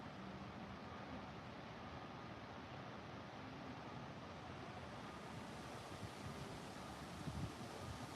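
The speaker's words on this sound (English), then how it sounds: "It's getting windy right now" Steady broadband wind roar buffeting a microphone, continuous and fairly loud throughout, with a low rumble and no voices.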